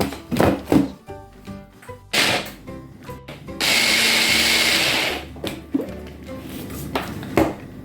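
A blender chopping apples whirs loudly for about two seconds, surrounded by clunks and thumps of handling the jar before and after.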